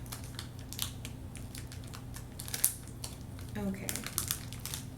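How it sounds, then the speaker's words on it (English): A packet of taro-flavored wafers is ripped open at the corner, with a crisp plastic crinkle and sharp tearing crackles against a steady background hum. A voice speaks briefly. "None of these are opening nicely. I'm having to like rip the corner off."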